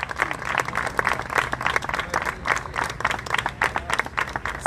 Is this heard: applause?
yes